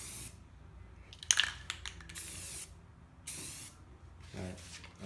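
Several short hissing bursts of spray paint applied to stripes on a BMW E46 M3 hood, close and fairly loud, separated by brief pauses with faint handling clicks.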